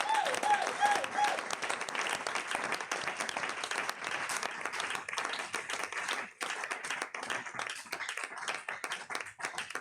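A church congregation applauds loudly during a Wednesday prayer service, with dense, sustained clapping filling the whole stretch and a few voices calling out beneath it.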